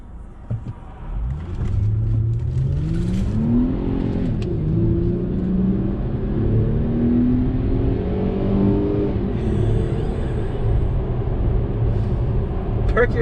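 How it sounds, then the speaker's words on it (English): A petrol V6 in a Mercedes S350 W221 pulls hard from rest, its rising engine note climbing through the gears in a steady, smooth rumble heard from inside the car, with no talk over it. "it's just that noise of a petrol V6"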